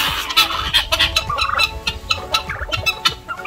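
A group of roosters cluck and chatter close by before breakfast, overlapping short calls in a busy, uneven rhythm with no one speaking.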